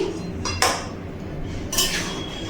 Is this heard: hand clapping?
no